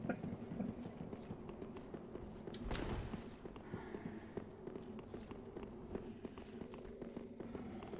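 Horse hooves clip-clop at a steady walking pace in Dark Souls 3, a horse drawing a buggy, fairly quiet beneath game ambience, with a brief louder burst partway through.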